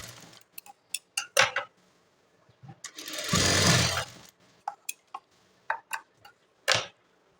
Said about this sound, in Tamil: கம்பல்சரி டபுள் ஸ்டிச்சஸ் போட்டுக்கோங்க.